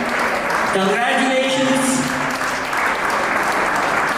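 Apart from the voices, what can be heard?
audience applause at award ceremony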